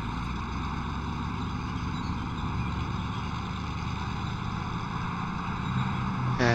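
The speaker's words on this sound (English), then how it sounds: "And the road you can hear quite strongly here because there is the highway in the vicinity." Steady low rumble of distant highway traffic near an airfield in a flight simulator, a continuous broadband drone with engine-like hum and no distinct events.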